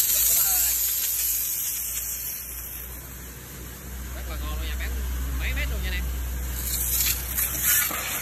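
An MS310 washer nozzle sprays water far in a steady, continuous hiss that holds for the whole stretch, with a voice talking over it.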